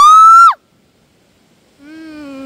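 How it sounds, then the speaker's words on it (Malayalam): Two loud human hooting shouts ring out outdoors near water on a family outing: a high, sustained call that cuts off sharply, a pause of near silence, then a lower, steadier hoot. "നമുക്ക് ഇവിടെ നിന്ന് കൂക്കി നോക്കിയാലോ?"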